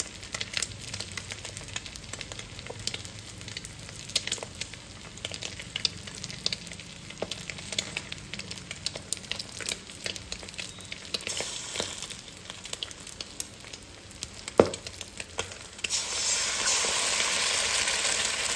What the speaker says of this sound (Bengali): সকালবেলা উঠে ডিম পোস্ট দিয়ে শুরু করলাম।